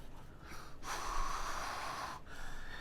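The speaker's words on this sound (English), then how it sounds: "As I'm breathing in and out," Breathing in and out through a universal-fit respirator face mask: a steady, close, muffled rush of airflow lasting about a second and a half, set between quieter pauses, with no talking.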